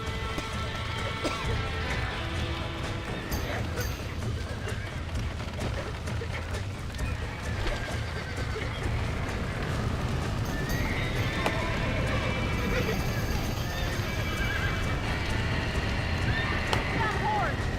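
A horse whinnies and hooves clip-clop steadily amid a busy, dense soundscape in the video game Red Dead Redemption, with voices talking over it.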